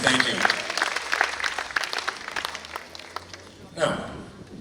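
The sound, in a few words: audience applause for bass pipe player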